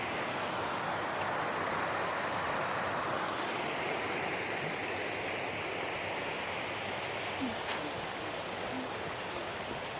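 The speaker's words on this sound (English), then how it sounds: "Yeah, a little waterfall there." A small waterfall on a backcountry trail in Georgia rushes continuously, a steady broadband hiss of falling water that stays even throughout, with no talking.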